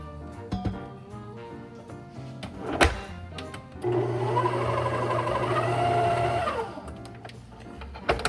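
A stand mixer kneads sweet yeast roll dough, its motor whirring steadily for a few seconds. Scattered clunks and knocks from scraping the bowl come before the whirring and after it stops.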